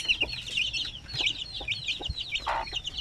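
Native chickens cluck and chirp in a busy, uneven chorus of short calls, fairly close and continuous, with occasional lower clucks among the higher-pitched peeps and no talking.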